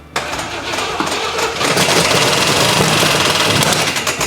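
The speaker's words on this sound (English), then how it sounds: "I just want a good little rev to finish off the evening." A 4-speed Camaro Z/28 with its ignition timing off cranks and fires, then settles into a loud, rough, knocking idle that swells as it revs, close to the listener.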